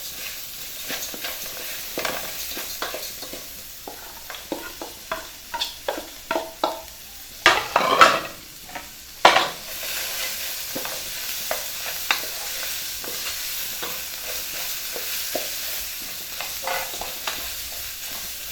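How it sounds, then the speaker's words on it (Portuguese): Vegetable stalks and onion sauté in a pan with a soft sizzle, broken by frequent scraping stirs, including a louder burst of clatter partway through. "você vai refogando todos os talos juntos"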